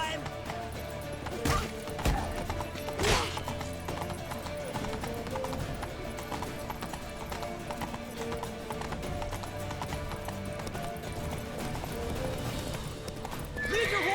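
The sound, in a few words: horses neighing and galloping in the video game The Witcher 3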